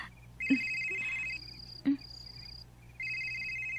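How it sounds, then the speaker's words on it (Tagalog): A telephone rings indoors in repeated electronic trilling bursts with short pauses between them, clear and close, with a couple of soft knocks and no speech. "Nanawag malagi ni Lorraine."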